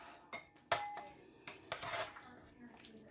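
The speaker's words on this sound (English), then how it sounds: "Let me bring this pot up here so you can see." A cooking pot is shifted across a kitchen counter while a kabocha squash red curry stew is being served, giving a few short scattered metallic clanks and scrapes, with one sharper knock near the middle.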